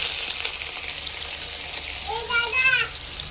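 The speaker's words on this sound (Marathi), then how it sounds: "आता याला चांगला भाजू द्यायचा." Chopped onion frying in a pan with curry leaves and cumin for chicken biryani, a soft continuous sizzle with a brief brighter crackle near the end.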